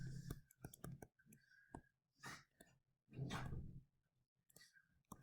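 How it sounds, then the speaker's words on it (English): A pet dog snorts and huffs in short bursts while playing with another dog indoors, with quiet clicks and breathy snuffles, some louder, longer snorts, and faint sounds of play between them. "That's my dog snorting"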